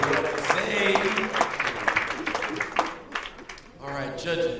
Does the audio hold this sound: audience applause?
yes